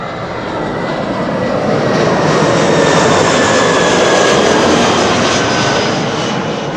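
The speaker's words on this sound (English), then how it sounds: "This is Lufti flight 2302 arriving from Munich." Lufti flight 2302 from Munich arrives at Amsterdam Schiphol with a loud, steady jet engine roar and a faint whine, holding strong and close through the whole clip with no talking.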